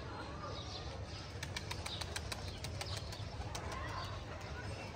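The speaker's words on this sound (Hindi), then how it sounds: "ये देखें जी कबूतर बैठ रहे हैं माशाल्लाह जी।" Pigeons flap their wings in rapid, repeated bursts as they land, close by over a steady outdoor background, with faint coos and chirps mixed in.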